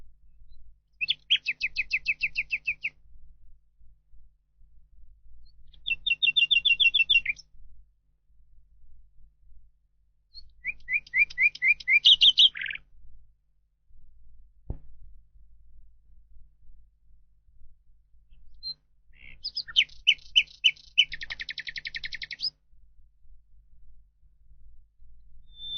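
Nightingale singing from deep inside a bush near water running into a pond, in separate bursts of rich, varied, high phrases with short pauses between them, clear and fairly close, with no talking.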